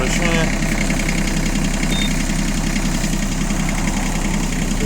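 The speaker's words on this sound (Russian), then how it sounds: "Теперь давайте проверим вал отбора мощности." An Iseki TF223F tractor engine runs steadily at a loud, close, rumbling idle with continuous vibration while its power take-off shaft is tested.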